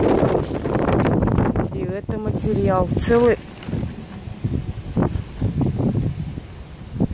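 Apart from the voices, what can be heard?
strong wind blowing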